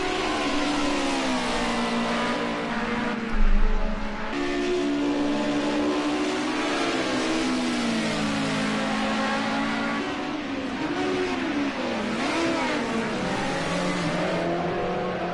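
Group A touring race cars at Sanoma circuit, engines roaring steadily as they pass and accelerate, with rising and falling pitch and a short burst of tyre noise partway through.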